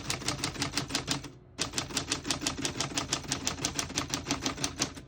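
A 1946 Smith-Corona Clipper portable typewriter being typed on, a steady run of crisp, evenly spaced key strikes with a brief pause near the start before the rapid clacking resumes, close and alone.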